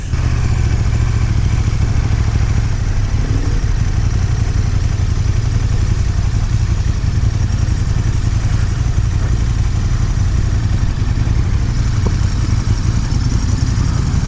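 A 2018 KTM 1290 Super Duke GT motorcycle at speed, its engine droning steadily and loudly under heavy wind rush for the whole stretch, with no talk.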